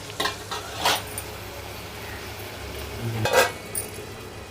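Cut potatoes dropped into a hot pan for frying with okra, giving a steady low sizzle broken by a few clinks and stirring scrapes, close with no talk.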